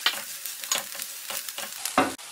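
Onions and sambar powder frying in a pan while being stirred with a spoon: soft sizzling under a series of irregular scraping strokes, close and alone, with no speech.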